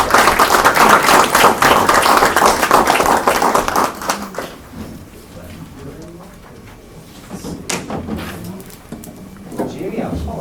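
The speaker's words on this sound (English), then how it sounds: "Give them a round of" An audience at a county Quorum Court meeting breaks into a loud round of applause for about four seconds, then it fades to scattered claps, thumps and murmuring, with a few more claps near the end.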